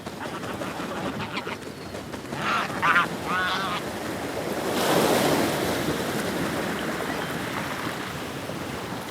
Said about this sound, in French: Le fracas des vagues les intrigue.